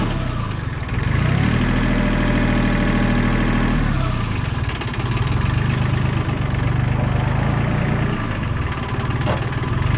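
A Yanmar YM1401D compact tractor engine runs steadily while harrowing in a field, a loud continuous low diesel drone with a deeper lugging tone in the first seconds before settling to an even throb, no voices.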